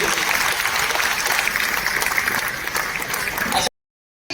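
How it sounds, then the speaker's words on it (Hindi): An audience at a network marketing seminar gives loud applause, a thick, continuous roar of clapping that stops abruptly into silence near the end before a brief return of sound. "एक बार जोरदार तालियां दें"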